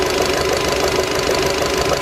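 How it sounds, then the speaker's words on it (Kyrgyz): A 2017 Skoda Rapid with a 1.6 engine and automatic gearbox running at idle, a loud, close, steady hum with an even rhythmic knock, alone without talk. "Мотор үнү болгон да."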